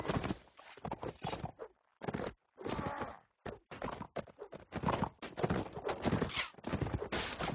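Horse hooves clattering during a video game battle, irregular bursts of clip-clop and trampling with brief gaps, fairly close and clear.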